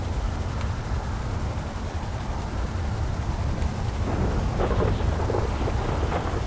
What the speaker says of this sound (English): It's gonna start raining.